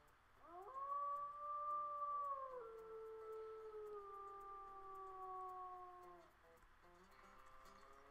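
A wolf in the WolfQuest video game gives a long, clear howl that rises, holds and slowly falls over several seconds, alone over a quiet game background with no talk.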